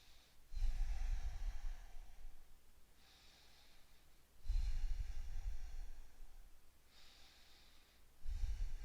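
Slow, deep breathing during a yoga warrior pose, three long airy breath cycles evenly spaced, close and soft, each beginning with a firm rush of air, with no talking.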